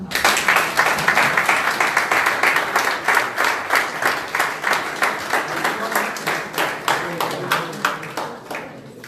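An audience at the final of a start-up competition applauds a team, with loud, steady rhythmic clapping close by that keeps going for several seconds before thinning out near the end.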